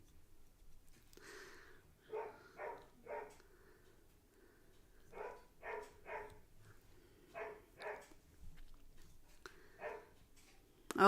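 A dog barks repeatedly in the background of a home setting, in short pairs and triplets of moderately faint barks spaced across several seconds.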